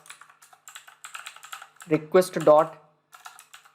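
Typing on a computer keyboard while writing Django code: quick, light key clicks in irregular bursts, close and clear, with someone briefly speaking over them partway through.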